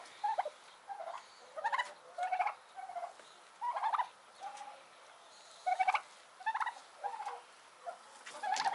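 Farmyard turkeys gobble in repeated short, bubbling bursts, fairly close and clear, with brief pauses between calls and no talking.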